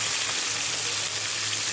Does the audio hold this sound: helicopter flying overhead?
no